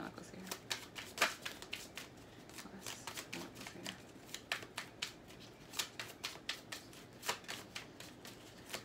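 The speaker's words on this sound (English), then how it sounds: "Let me shuffle these cards." Crisp riffling and slapping of tarot cards, repeated in quick bursts over several seconds, fairly close and soft, with faint voice murmurs underneath.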